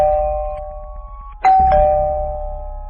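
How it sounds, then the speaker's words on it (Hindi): A house doorbell rings at night, a steady electronic tone followed by a sharper two-note chime that strikes close and loud, then fades out with a lingering hum. "दरवाजे के पास आते ही गुल्ली घर की डोरबेल बजाता है"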